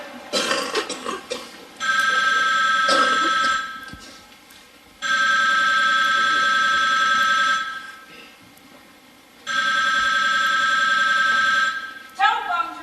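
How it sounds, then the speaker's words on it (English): A telephone rings in a police squad room early in the morning: three long, loud electronic ring bursts separated by short pauses, with brief voices and movement between them. "Telephone's ringing."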